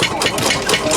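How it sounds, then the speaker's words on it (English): A Lister stationary engine runs steadily at a tractor show and auction, a loud, continuous mid-pitched chugging and knocking with a slight rattle, close by and unbroken. "Right, so Lister engine there."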